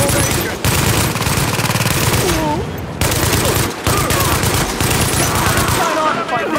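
Sustained automatic gunfire bursts in the video game Tom Clancy's The Division, a dense, loud fusillade of rapid shots with brief pauses, and faint shouted voices in the mix.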